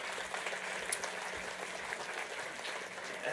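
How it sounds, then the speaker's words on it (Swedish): Faint, steady applause from an audience at a municipal presentation of the Lalandia project in Motala, a soft even patter of many hands lasting a few seconds without any clear voices. "En applåd."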